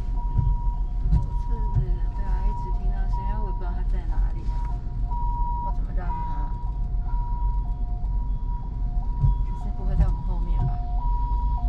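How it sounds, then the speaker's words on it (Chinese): An ambulance siren cycles steadily through a two-tone hi-lo pattern on a road in Taipei, Taiwan, heard from inside a Subaru over engine rumble while people talk. "救护车在哪里啊？"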